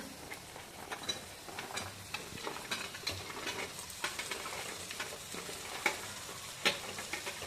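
Okra frying in oil in a pan while being stirred, a steady crackling sizzle with scraping stir strokes and occasional sharper clicks of the utensil, close and fairly quiet, with no talking.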